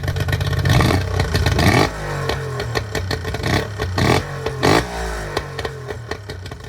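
The outboard motor of a restored boat runs and revs, its engine note rising and falling in several surges before settling into a steadier idle, loud and close.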